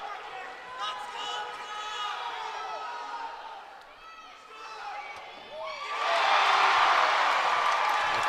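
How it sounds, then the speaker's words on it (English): Gymnastics meet crowd at a Stanford versus Penn State college competition, with voices and scattered shouts that dip briefly and then erupt into a loud, sustained cheer and roar through the final seconds. "Crowd erupts."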